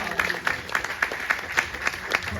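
An audience at a film screening Q&A claps throughout, a sparse, fairly thin patter of hands rather than a large roaring crowd.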